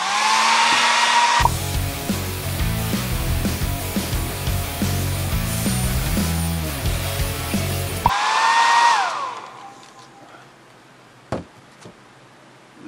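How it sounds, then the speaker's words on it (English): A hair dryer blows steadily and loudly for several seconds while drying a freshly painted cardboard teleprompter, then cuts off, leaving a few faint knocks and handling sounds. "Let's take our hair dryer."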